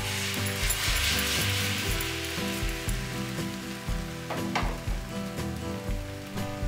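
Batter spread in a large pan over low heat gives off a soft, steady sizzling hiss, partly buried under loud, tonal background music throughout.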